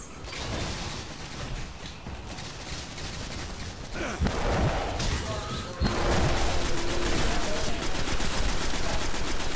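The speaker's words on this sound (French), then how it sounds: "Elle est pas mal ce nouveau fusil d'assaut que j'ai débloqué là" Assault rifle fire in the video game Destiny comes as dense, continuous bursts of gunfire with thumping impacts. The clatter grows louder and fuller partway through and keeps going without pause.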